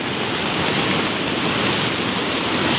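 Floodwater rushes loudly and steadily during heavy monsoon rain in Himachal Pradesh, a dense, close, unbroken roar of churning water with no voices.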